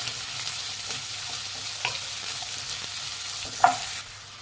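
Sliced medium onions, cut lengthwise, fry in oil as a steady close sizzle, with a few brief scrapes of stirring and one sharper clink near the end.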